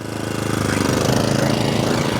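An Atco Balmoral 20S petrol lawn mower engine runs steadily and loud close by, a continuous mid-pitched drone with a slight rhythmic pulse and no voices over it.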